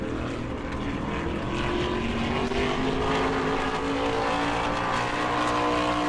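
A NASCAR Whelen Modified race car laps New Smyrna's track in qualifying, its engine a loud, continuous roar that rises steadily in pitch as it comes off turn four, with crowd and track noise beneath.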